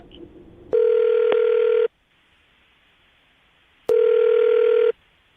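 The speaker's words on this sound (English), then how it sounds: "I'm about to dial the phone number and get him on the phone" A telephone handset plays two long ringback tones about three seconds apart, loud and close, with a quiet gap between them and no voices.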